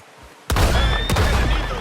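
Gunfire in Red Dead Redemption 2 during a hunting outing: a loud sudden shot bursts in after near silence, a second sharp report follows about half a second later, and a booming echoing tail lingers between and after them.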